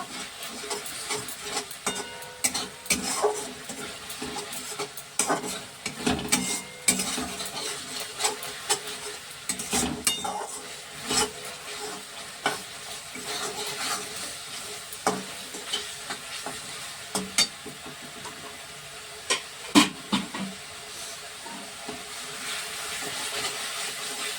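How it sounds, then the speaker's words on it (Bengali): Masala sautéing with a splash of water for rohu fish curry, giving a continuous frying hiss. Frequent scraping and knocking stirring strokes run through it at an irregular rhythm. "এক চামচ জল দিলাম দিয়ে ভালো করে একটু কষে নেবো"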